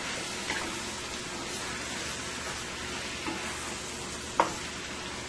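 Vegetables sizzle and fry in a pan after a splash of low-sodium soy sauce, a steady close hiss with a few soft stirring and tossing knocks and one sharper clink near the end.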